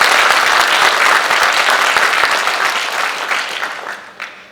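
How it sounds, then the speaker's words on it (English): Audience applause at a naturalization ceremony in Putnam County, New York: a dense, steady wash of many hands clapping that gradually thins and fades out toward the end. "You should be clapping for that right now."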